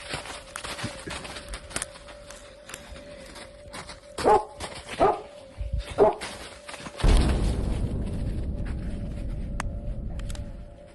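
A dog barks several times in a forest at night, sharp yelps that come partway through and are followed by a louder, rushing noise that continues to the end.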